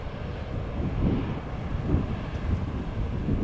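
Reverse thrust roars from a landing airliner at Amsterdam Schiphol, a distant, broad rumbling wash with gusty wind noise on the microphone.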